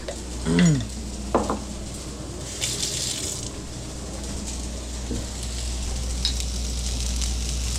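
Garlic sizzles and spatters in a frying pan as it is stirred in, a steady close crackle with a few scraping strokes and soft bumps near the start.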